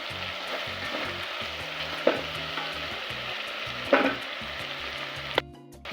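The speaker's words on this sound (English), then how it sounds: "I stir in to combine." Tomato sauce with salt being stirred in a pot for a tilapia fish stew, heard as a continuous close sizzle with a few sharp utensil knocks and a brief pause near the end.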